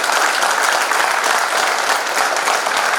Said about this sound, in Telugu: ప్రైమ్ వెల్త్లకు ఒకసారి గట్టిగా చప్పట్లు